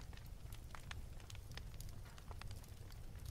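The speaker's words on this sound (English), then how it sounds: "The gentle crackle of the fire is the perfect comfort" A gentle fire crackles softly in a cozy canal boat, with faint scattered pops and snaps over a quiet low hum, calm and close.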